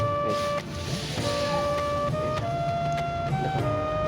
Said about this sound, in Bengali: একদম পারফেক্টভাবে কেটে দিবে এই মেশিনটি